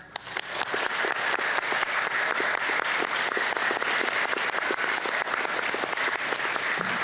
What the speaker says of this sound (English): So I'd like everybody in the room to give these individuals a big clap.